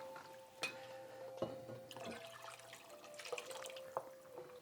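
Water trickles and splashes into a cooking pot of red beans already holding vegetable broth, a faint pour broken by a few distinct drips and plops, with no talking.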